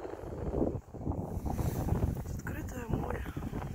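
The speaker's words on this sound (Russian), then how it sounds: "Ох, тут ветер" Strong wind off the Ligurian Sea at Portofino, Italy, roars against the microphone in low, rumbling gusts, with a voice talking intermittently beneath the buffeting noise.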